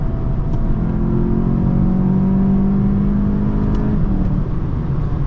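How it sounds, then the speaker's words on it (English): A 2025 VW Jetta GLI engine revs up steadily to its rev limiter, a loud sustained rising drone that holds near the top and then drops off, with no talk over it. "And it spins right out to the rev limiter."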